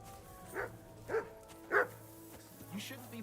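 A dog in the medieval role-playing video game Kingdom Come: Deliverance 2 gives four short, separate barks at a moderate distance over a low ambient hum.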